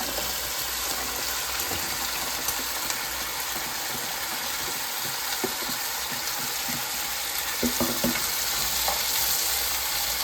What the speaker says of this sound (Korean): 간장을 슬쩍 넣어서 간장이 기름에 끓어오르게끔 하고,